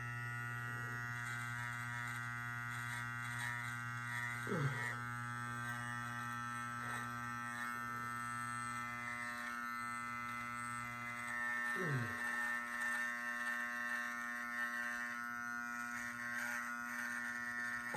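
Electric hair clipper buzzing steadily during a self-administered haircut, a close, constant hum with a couple of brief shifts in pitch as it moves around the head.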